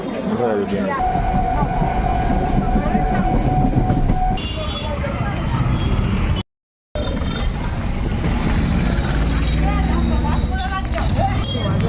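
A train rumbles loudly and steadily nearby, heard while waiting on a platform, a sustained horn-like tone rising over it early on, with voices faintly mixed in and a brief cutout midway.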